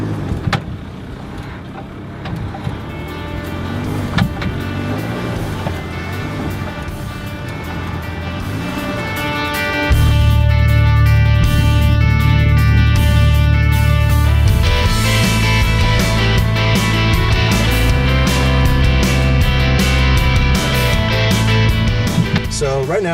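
An all-wheel-drive car accelerating from low speed, its engine droning steadily and loud, then rising in level and pitch partway through as it pulls harder, heard from inside the car with a constant road roar.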